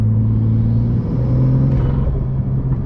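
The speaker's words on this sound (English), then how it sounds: "Let me put it in sport and close the exhaust and just listen to this." BMW M car engine in sport mode with the exhaust closed, a steady deep rumbling idle with a low droning hum, close and loud, with no talking.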